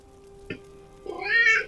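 A house cat lets out a single rising meow close by at the very end, after a brief soft knock and a faint steady indoor hum.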